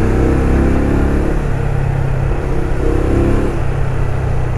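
A Benelli Imperiale 400 motorcycle with its stock exhaust idles, a loud, steady low thump of the single-cylinder engine close up with slight swells in revs and no talking.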